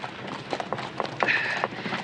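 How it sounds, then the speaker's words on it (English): Horse hooves clip-clop at a steady walking pace in a Bonanza western scene, a series of light, fairly close knocks over faint background noise. "Could you, get your horse to manage a livelier gait?"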